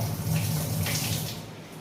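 Water gushes steadily from a tap fed by a borewell pipeline at a home, a continuous close rushing sound with no talk.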